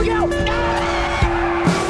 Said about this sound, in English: his truck lost control, skidded, and flipped over.